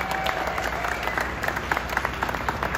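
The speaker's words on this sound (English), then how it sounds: "it's nice of you to clap for that" Concert audience at the outdoor Three Rivers Arts Festival clapping, a moderate, scattered patter of hands with individual claps standing out, continuing steadily throughout.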